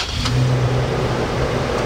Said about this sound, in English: And it'll start flashing and then it's gonna start up.